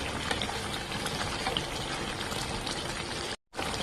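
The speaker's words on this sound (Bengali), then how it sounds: "মাংসটাই রান্না হচ্ছে।" Meat cooking in a pot gives a steady, dense bubbling and sizzling that runs continuously, broken by a brief silent gap near the end.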